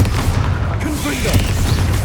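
A Confringo blasting spell going off in Hogwarts Legacy, heavy booming bursts and rumbling game effects under a loud, dense mix that continues throughout.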